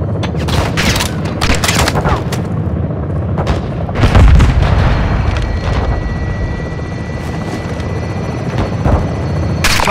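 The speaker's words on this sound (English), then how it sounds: "Grenade out!" Heavy explosion booms out amid dense gunfire, helicopter rotor drone and the clatter of a firefight in a realism first-person shooter game on highest difficulty, loud and close in a busy battle mix.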